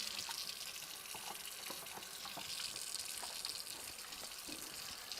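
Hot water runs steadily from a tap for hand washing, a continuous soft gushing hiss with faint splashes against the sink, alone and moderately close.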